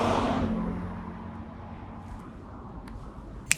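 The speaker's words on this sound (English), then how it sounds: "We got a car driving by." A car drives past outdoors, its engine whoosh loudest at first and then fading off into the distance, followed by a faint sharp click.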